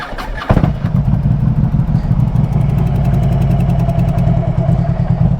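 Engine of a trike motorcycle with compression releases in the cylinder heads fires up after a brief start and settles into a loud, close, steady rumbling idle with a fast even pulse, no voices over it.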